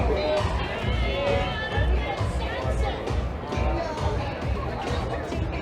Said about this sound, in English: That is quite a crowd.